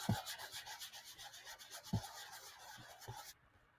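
Makeup being rubbed and blended into the face for contouring, a soft close scratchy rubbing that repeats in short strokes with a few firmer thumps, then stops near the end.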